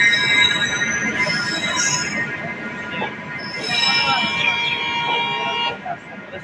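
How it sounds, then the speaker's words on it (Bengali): An Amrit Bharat Express pulling into a station platform: a loud, continuous rumble of rolling coaches with high metallic wheel squeals and sustained horn-like tones, and people talking in the background. "এখন অ্যারাইভ করছে আমাদের অমৃত ভারত এক্সপ্রেস"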